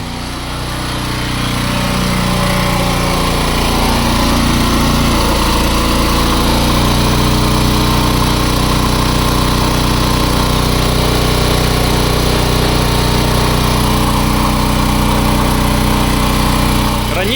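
A Champion CPG4000DHY-DF-EU dual-fuel inverter generator running on gas ramps up to a loud, steady, close engine drone that holds evenly for the whole stretch.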